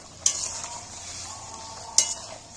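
A spicy masala curry with half-cooked potatoes for a fish roe curry sizzles and simmers steadily in a pan, with two sharp spoon knocks against the metal a couple of seconds apart.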